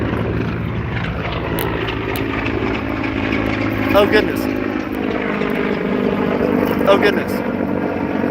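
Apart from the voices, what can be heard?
military helicopter flying overhead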